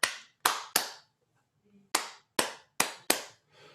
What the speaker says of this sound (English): Okay, so you can clap, you can shake your thing.